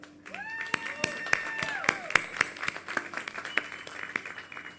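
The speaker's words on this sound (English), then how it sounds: "round of applause" Graduates of LaGuardia's 52nd graduating class clap at a graduation ceremony, with scattered claps building into steady applause in a large room. Bright tonal feedback-like whistles ring over the clapping.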